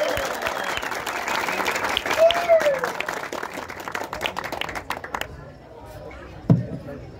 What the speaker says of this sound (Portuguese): uma salva de palmas para esses dois.